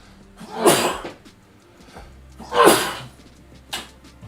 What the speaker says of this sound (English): I will have to sneeze a bit.